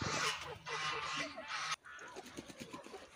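Domestic farm geese honk in a quick series of loud, nasal calls close by, followed by softer, scattered honks and cackles.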